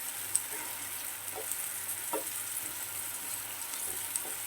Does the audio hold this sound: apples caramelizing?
yes